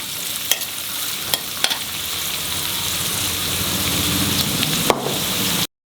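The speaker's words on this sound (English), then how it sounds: "Onions for seasoning. Make it translucent." Onions fry in coconut oil in a pan with a continuous loud sizzle, punctuated by a few sharp clicks of a utensil stirring them, before cutting to silence at the end.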